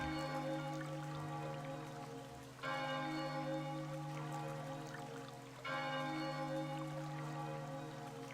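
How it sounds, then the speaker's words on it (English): The bell of oblivion ringing in the town of Lost Time in Chocobo's Mystery Dungeon, three sustained resonant bell strikes spaced about three seconds apart, each decaying slowly, fairly faint with no talk. "Sounds like a bell ringing. Wait, what? Ah, that's the bell of oblivion."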